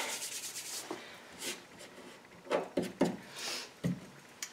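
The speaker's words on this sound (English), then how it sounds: "touch it up, and then rub it with your finger" Brown paper pressed onto a wall being rubbed with a finger, soft dry rustling strokes with a few sharper scuffs, close and quiet, no voices.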